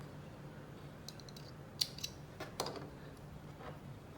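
Scissors snip overlock thread at an overlock sewing machine, a few faint, crisp clicks and short cuts spaced irregularly over a quiet room hum.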